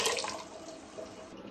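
Water poured over washed lentils in a pot, a brief soft splashing pour that fades quickly, heard alone.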